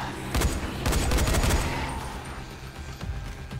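A rapid volley of gunshots fired at zombies in Dying Light, several loud close cracks in quick clusters followed by a fading echo.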